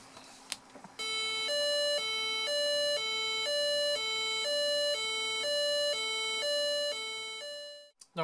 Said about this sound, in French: Donc là, le son de la police.